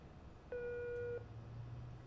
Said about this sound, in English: No one's answering the phone.